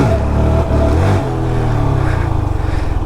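A car engine revs hard for a clutch dump, loud and close. The revs climb and then settle into a steady, throbbing roar.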